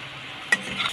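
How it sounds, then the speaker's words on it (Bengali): Fried potatoes, lentil dumplings and okra go into a curry pan, making a soft sizzle with one sharp clink of utensil on pan partway through and stirring after it. "এখানে দেখো আমি আলু বড়ি আর ঢেঁড়সটা যে ভেজে রেখেছি এই মধ্যে দিয়ে দিচ্ছি।"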